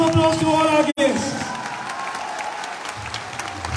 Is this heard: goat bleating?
no